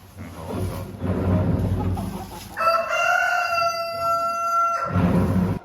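A rooster in a pigeon loft in Germany lets out one long, loud crow in the middle, with clucking and bird calls around it before and after.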